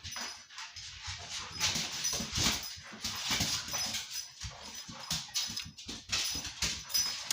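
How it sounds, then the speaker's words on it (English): Dogs whimper and scuffle in rough play, with soft whines and yips coming in irregular bursts close by, no talking. "If you hear my dogs in the background"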